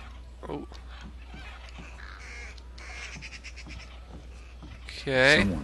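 Birds honk and caw in the video game Thief, scattered calls under quiet ambience with a loud close honk near the end, while a person talks over it.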